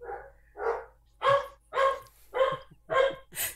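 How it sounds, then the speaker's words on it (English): Several dogs bark indoors in a run of loud, evenly spaced woofs, about six or seven barks over a few seconds, close by and with no talk. "It's the time of the day, the barking time."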